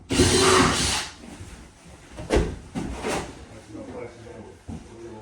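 A power drill bores into a wall to fix a bracket during a bathroom renovation. The motor runs in a loud first burst, then comes back in shorter bursts with knocks and handling noises between them.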